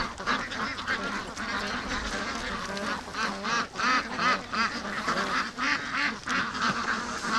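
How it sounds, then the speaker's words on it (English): Free-range ducks, including Muscovies, at a lake give loud, overlapping quacking calls in rapid bursts, a close and busy flock chorus with no pauses. "Okay, the Muscovies won't even go in the water."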